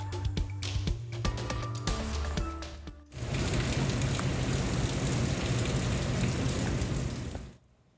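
Heavy rain pours onto a roof in Kearney Mesa, San Diego, on a wet January morning. After a brief dip, a dense, steady roar of downpour sets in close by and holds loud and unbroken, with no voices, until it fades away at the end.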